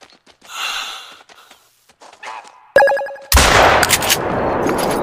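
A slug shotgun is fired at a whitetail deer outdoors: quiet rustling and breathing, then a sharp click and a single loud, booming blast that rings out and leaves a noisy, sustained tail.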